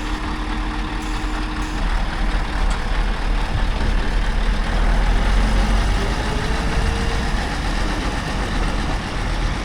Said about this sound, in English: So the Scania V8 sounds eerily similar to the E9.